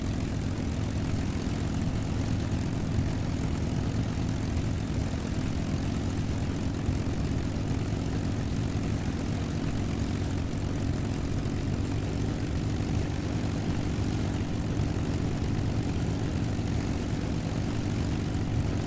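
A B-29 bomber taxiing on a runway at an airshow, its piston engines and propellers droning in a steady, loud, unbroken roar that holds level throughout, with no voices.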